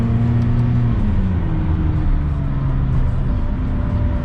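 A McLaren supercar driving through London streets gives a loud, close engine drone whose pitch drops and shifts through a downshift, with a rumbling exhaust note throughout.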